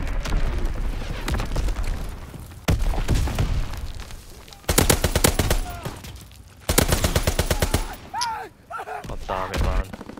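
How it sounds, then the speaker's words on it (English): Incoming enemy mortar fire and gunfire in Call of Duty WW2: loud bursts of rapid machine-gun rattle alternate with heavy booms, dense and continuous battlefield noise with brief shouted voice lines mixed in. "Enemy mortar fire incoming!"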